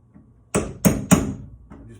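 A hammer strikes a metal hole punch three times in quick succession to knock screws up into a piece of furniture being prepared for a makeover; the sharp, close metallic blows stand alone over a quiet background.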